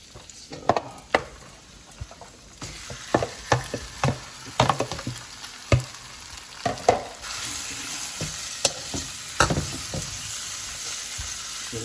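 Flat rice noodles stir-fried with meat for drunken noodles, a steady crackling sizzle punctuated by sharp clanks and scrapes of a spatula against the pan, close and busy, no talking.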